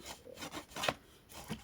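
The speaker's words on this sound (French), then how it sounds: "On repasse bien sur le pli." A finger presses and rubs along a paper fold to crease a pop-up card, giving soft, close, short scraping strokes in a quick rhythm.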